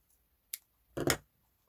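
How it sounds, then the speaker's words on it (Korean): Scissors snip through crochet yarn: one quick, faint click, then a slightly longer double cut, close and quiet in a still room. "실을 잘라줍니다."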